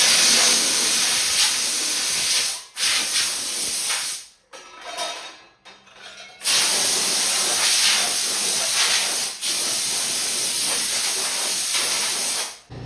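A lamp part from a 55-year-old pedestal light being blown off with compressed air, with loud close hissing blasts lasting several seconds each, broken by brief pauses and one longer gap.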